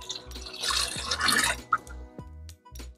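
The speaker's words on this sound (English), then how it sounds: "I could pour all the contents of their container through a net." Water from a shrimp container is poured through a net, making close splashing and trickling sounds with a few drips in between, with no talking.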